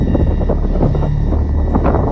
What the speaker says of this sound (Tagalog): sobrang lakas ngayon ng hangin dahil merong paparating na bagong bagyo